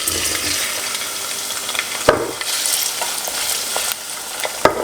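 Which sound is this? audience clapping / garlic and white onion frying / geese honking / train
garlic and white onion frying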